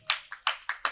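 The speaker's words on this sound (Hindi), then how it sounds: "रोहितास जी के लिए तालियां बजाओ" A few students in a Prakrit language class clap for a classmate, Rohitas, giving five sparse, uneven claps close by with no talking.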